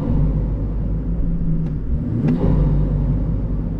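A BMW 540i xDrive fitted with a BMS performance intake idles with a steady, deep, loud rumbling burble, plus a couple of faint clicks partway through.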